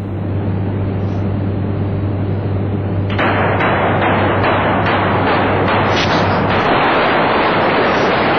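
Blasting charges go off in quick succession in the Blegny mine, merging into one long rumbling roar of closely chained explosions that starts abruptly after a steady low hum and continues loudly for several seconds.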